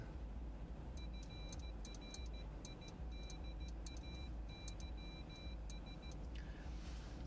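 Morse code beeps from a Winkeyer keyer inside a car on a commute, steady tone pulses tapping out a word in irregular dot-and-dash groups over constant road and engine rumble, with no talk.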